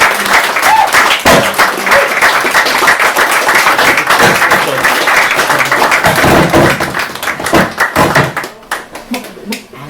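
Loud crowd applause at a literary reading for a guest reader, thick continuous clapping with a few thumps, fading and thinning out toward the close.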